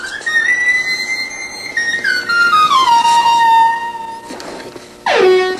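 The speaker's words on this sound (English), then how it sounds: "it's a flute just the same" A handmade McKenna flute plays long sustained tones, sliding down in steps and then holding, with a breathy attack and a final falling swoop, clear and close.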